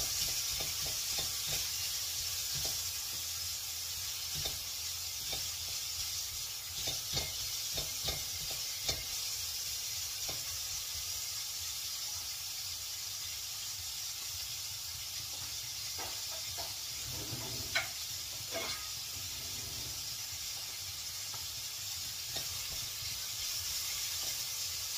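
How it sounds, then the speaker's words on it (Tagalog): Food sizzles steadily in a pan while being sautéed, a continuous close hiss with scattered soft scrapes and clicks of stirring throughout, no voices. "Gisa."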